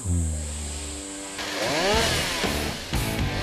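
A chainsaw idles with a steady drone, then revs up loudly and bites into large trees, its pitch rising and dipping as it cuts nearby on a steep logging slope in Korea.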